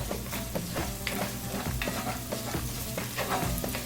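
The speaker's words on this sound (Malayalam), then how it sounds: "3/4 ടേബിൾ സ്പൂൺ ഉലുവ ചേർത്തിട്ട് ഒന്ന് ഇളക്കി കൊടുക്കാം" Fenugreek seeds stirred into spices frying in a Dutch oven for a Kerala beef roast: a steady close sizzle with repeated scraping strokes of a spoon, no voices.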